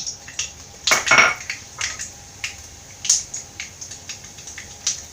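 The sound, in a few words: mustard seeds added to hot oil in a pan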